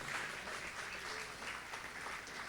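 Soft, sustained clapping from a church congregation during a sermon, a steady wash of applause at low volume with no speech over it.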